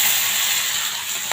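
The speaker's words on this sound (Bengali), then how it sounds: "মাছটা লাল লাল করে ভেজে নেব।" Shrimp fry in hot oil, giving a steady, dense sizzle and hiss close up that holds evenly for a brief moment.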